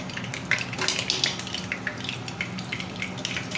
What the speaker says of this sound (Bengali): এবার আমি ফোড়ন দেব শুকনো লঙ্কা দেব এখানে আমি শুকনো লঙ্কা দিলাম তেজপাতা দিলাম ছোটো এলাচ দিচ্ছি